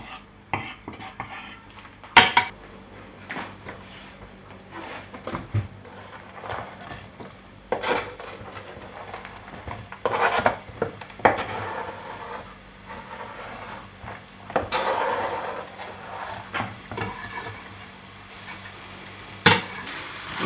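Onions gently sautéing in a mix of oil and butter in a pan for lasagne, a soft steady sizzle broken by occasional clinks and scrapes of a utensil against the pan.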